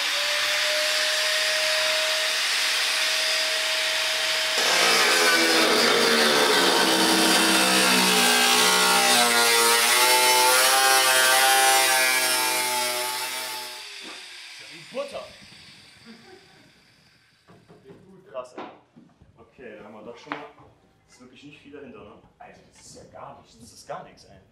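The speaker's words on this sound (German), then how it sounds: "Ja, ich schneide mal da oben jetzt und krieg mal ein Gefühl dafür." Hand cutting through part of a car body panel in a workshop on a WTCC race car build project, a steady broadband rasping saw-like noise for about nine seconds, then stopping as people talk nearby in German.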